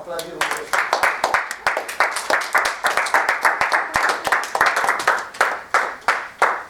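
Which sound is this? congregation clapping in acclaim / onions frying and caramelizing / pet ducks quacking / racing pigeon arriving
congregation clapping in acclaim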